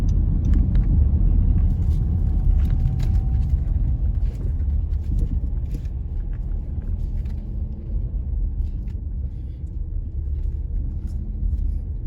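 Low engine rumble from inside a car moving through Half Way Tree, Jamaica, early morning, steady and close, with faint clicks and passing traffic noise in the background.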